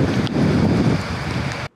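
Heavy rain and gusting wind sweep across a waterlogged football pitch in a stadium during a match, a loud continuous roar of rain and wind buffeting close to the microphone before cutting off abruptly.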